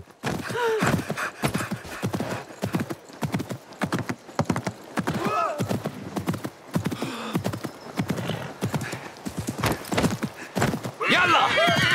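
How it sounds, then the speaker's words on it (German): Horse riders approaching in Assassin's Creed Mirage, with rapid clip-clopping hooves throughout, a horse neighing, and a voice speaking over the galloping, which grows busier toward the end. "Da kommen Reiter ein bisschen schneller."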